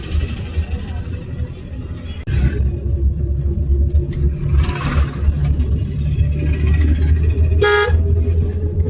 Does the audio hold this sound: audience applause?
no